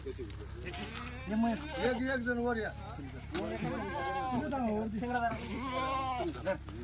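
Kathiawadi goats at a village goat sale bleat repeatedly in wavering, drawn-out calls, several animals overlapping close by over a low background hum.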